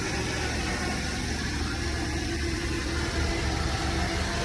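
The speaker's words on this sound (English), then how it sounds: "The engine sounds really good on this one." Car engine idling at a city vehicle auction after being jump-started, a steady, continuous rumble close to the listener with no break.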